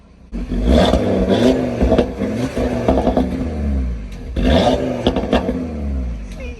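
Audi RS3 engine and exhaust fitted with a Unitronic midpipe, a loud throaty rumble that swells into two strong revving bursts with crackling overtones, heard close and alone.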